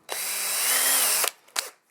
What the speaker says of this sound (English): So I'm gonna go along and drill